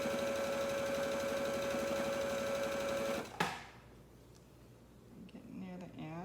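A sewing machine stitches a quilt top, running in a fast, even whir for about three seconds before stopping with a clunk, followed by quieter handling noises and a voice starting near the end.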